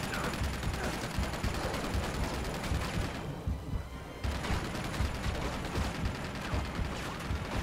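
Rapid gunfire crackles in Uncharted 2: Among Thieves, dense bursts of automatic shots and firefight noise with a brief lull midway before the shooting resumes, loud and continuous.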